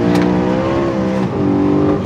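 BMW E90 M3 accelerating hard in third gear, a loud, steady engine note with strong harmonics climbing continuously, close and unbroken, with a brief dip near the end before pulling again.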